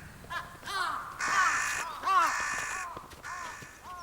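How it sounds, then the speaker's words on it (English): Several crows caw in a mob in snowy Hokkaido as a hungry fox approaches: loud, harsh caws repeat in overlapping bursts over about four seconds, clear and fairly close, with no talk. "Crows are respected by the Ainu for their boldness, but even such a mob of them can't deter a hungry fox."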